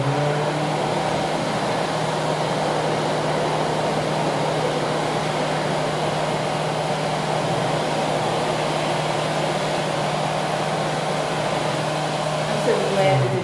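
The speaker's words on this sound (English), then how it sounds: "I'm gonna put these under the dryer real quick." A heated dryer blows continuously on wet motorcycle gear, producing a loud, steady whooshing hum from close by that holds unchanged for the whole stretch.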